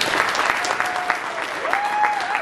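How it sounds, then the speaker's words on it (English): Audience applause fills a 2023 Atlantic Cape Community College communication awards ceremony: dense, steady clapping from a crowd, close and sustained throughout, with a faint tonal sound drifting over it. "So if we give them a big round of applause for putting this together."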